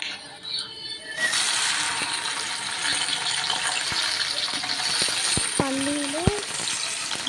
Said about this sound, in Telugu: పల్లీలు కొద్దిగా ఫ్రై అవ్వగానే అందులో కట్ చేసి పెట్టుకున్న బెండకాయలను వేయాలి